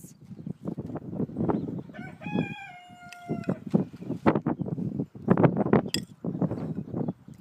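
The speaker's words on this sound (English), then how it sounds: "Somewhere is a rooster." A rooster crows once, a long harmonic call rising then holding, amid a busy backdrop of clucking Light Brahma hens and scratchy farmyard noise.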